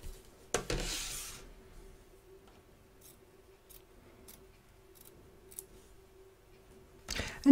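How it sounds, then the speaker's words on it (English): Scissors trimming excess fabric from the back of an embroidery hoop, a few close, quiet snips and clicks near the start and again at the end, with near silence between. "So turn your hoop over and trim it away, taking care not to cut your stitches."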